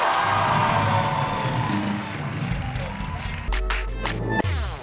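A lively crowd cheers and shouts continuously, with a burst of whoops and clapping near the end.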